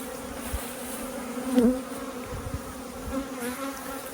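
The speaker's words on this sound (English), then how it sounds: "The bees, all the bees are upset." A dense, steady buzzing of many agitated honeybees swarming close around hives during robbing, droning continuously with individual insects swelling louder as they pass near.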